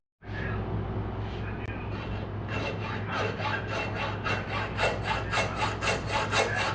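A Dremel cuts a marked metal part for a sickle mower with a steady, close grinding rasp that starts abruptly and takes on a faster rhythmic scraping pulse partway through.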